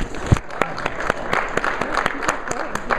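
Scattered audience applause in a lecture hall, moderately loud sharp claps forming an uneven patter for about three seconds, with faint voices mixed in.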